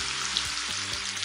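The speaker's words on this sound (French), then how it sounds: "Alors, j'ai mis l'huile. Alors, je vais mettre l'oignon," Onion frying in hot oil in a pan, a loud continuous crackling sizzle heard up close, with faint low clatter underneath and no speech over it.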